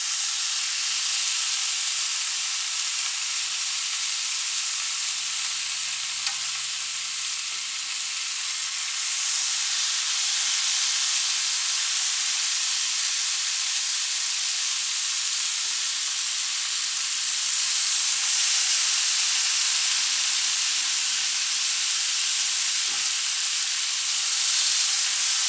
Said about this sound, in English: Love that sizzle.